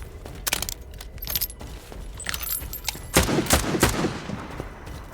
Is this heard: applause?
no